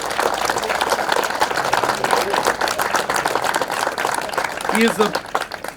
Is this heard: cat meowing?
no